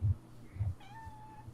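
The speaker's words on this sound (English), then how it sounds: "do I hear a kitty cat?" Macy the cat lets out one faint, drawn-out meow with a low rumbling background, preceded by soft thumps.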